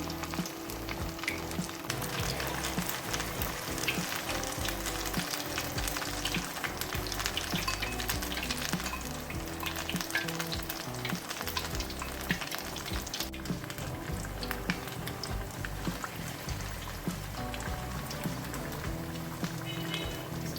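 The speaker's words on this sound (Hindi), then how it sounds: "ये हमारा जो तेल गर्म हुआ है इसमें हमने इसको डाल देना है। आंच हमने मीडियम रखनी है।" Pinwheel samosas frying in hot oil over a medium flame, a dense, continuous sizzle and bubbling that stays even and close throughout with no talk.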